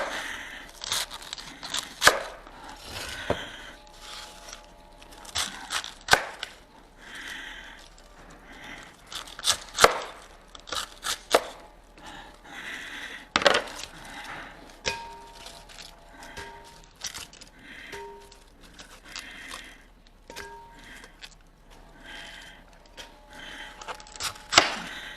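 A sharp knife chops through cabbage for sauerkraut, giving irregular crisp cuts and crunchy crackles close by, with pauses between bursts and no talking.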